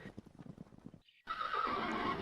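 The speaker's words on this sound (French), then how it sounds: "les chevaux sauvages courent par les plaines" Wild horses on open plains: soft rhythmic hoof thuds and breathing give way to a loud, sustained whinny that fills the second half.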